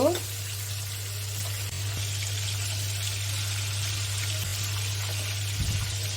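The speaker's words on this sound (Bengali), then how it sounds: "মাছগুলো আমার এক পাশ ভাজা হয়ে গেছে, আরেক পাশ করে দেব।" Fish fry in oil in a pan with a soft, steady sizzle over a low electrical hum, a brief clatter near the start and another near the end.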